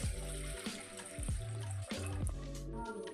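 Water poured from a small metal jug into a cooking pot set on a gas stove, a quiet, continuous splash with ringing, rising tones lasting a few seconds.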